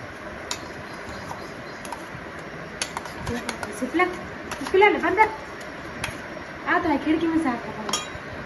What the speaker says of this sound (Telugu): ఇలా అలా మసాలా కలిసేటట్టు ముక్కల్ని మెల్లగా కలుపుకోవాలి.